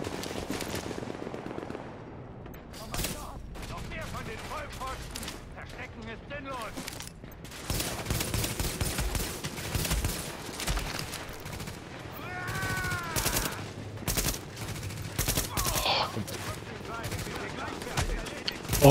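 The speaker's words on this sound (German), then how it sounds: "Wird auch geschossen" Gunfire in The Division's Dark Zone, with repeated shots and rattling bursts through the clip alongside other game sounds and someone talking in German.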